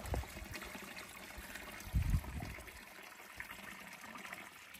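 A natural spring in the Northern California woods trickles softly, a faint, close watery dribble with a brief louder splash partway through and otherwise quiet surroundings.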